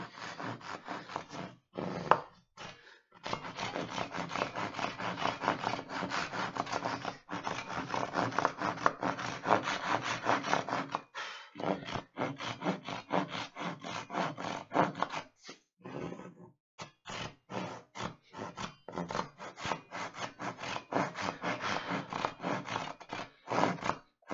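A hand saw works through hard maple in a steady back-and-forth rhythm of rasping strokes, close and continuous. Several brief pauses break up the sawing.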